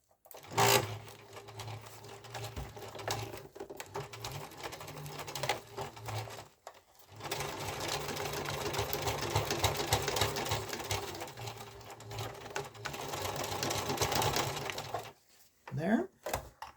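A sewing machine stitches Velcro into a fabric ridge line organizer bag, running in long steady bursts of rapid mechanical clatter, close and fairly loud, with short pauses between runs and brief talk near the start and end.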